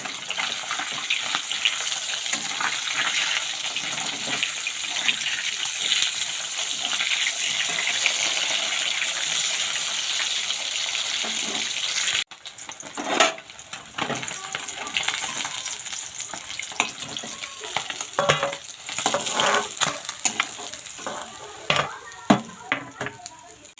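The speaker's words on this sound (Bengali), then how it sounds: "মাছ ভাজা হয়ে গেছে।" Rohu fish frying in oil gives a loud, continuous sizzle with crackling bursts, the spattering growing more uneven and choppy partway through, with faint occasional voice underneath.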